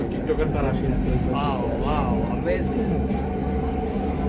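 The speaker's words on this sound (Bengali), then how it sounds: "ওই পাশ দিয়ে আবার আরেকটা ট্রেন যাইতেছে" A second train runs past on the adjacent track, heard as a steady loud rumble and rolling rail noise from aboard a moving train, with people talking over it throughout.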